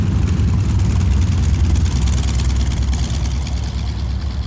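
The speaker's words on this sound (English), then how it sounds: "The tearing sound, that's the tip of the propeller going supersonic." A Harvard trainer's 550 horsepower Pratt & Whitney radial engine roars loud and steady, its propeller tips going supersonic for a harsh tearing edge, continuous and close throughout.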